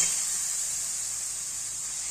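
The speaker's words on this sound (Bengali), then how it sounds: "দিয়ে আবার গাজরটা দিয়ে কিছুক্ষণ এটাকে কষাবো।" Grated carrot frying with spices in a pan, a soft steady sizzling hiss, close and continuous, with no voices.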